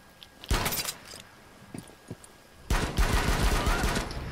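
Gunfire in the video game Rainbow Six Siege, a short loud burst near the start, a couple of faint single shots, then a sustained heavy barrage filling the last part of the clip.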